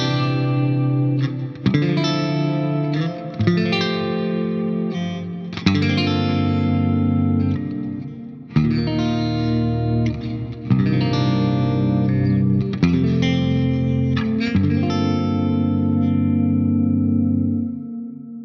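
Clean electric guitar chords and single notes ring through a Line 6 Helix with Ganymede reverb, each strum swelling into a lush, long shimmering tail that fades out at the end; loud, close, and without talk.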